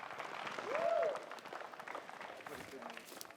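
At a disc golf tournament, a crowd applauds in a brief burst of clapping that rises near the middle. Commentators talk over it.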